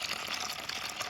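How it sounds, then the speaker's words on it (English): Hot water pours into a container for washing fidget toys, a quiet, steady rushing splash lasting about a second with no voices over it. "And then we'll add some hot water."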